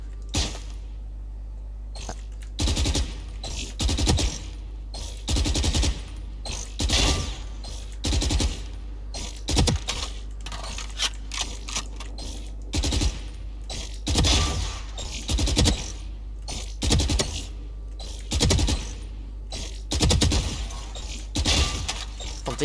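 Rapid bursts of Phantom rifle fire in a video game, repeated in short clustered volleys with brief pauses, loud and sharp throughout with no talk.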